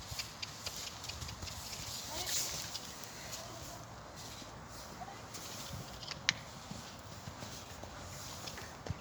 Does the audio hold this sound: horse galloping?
yes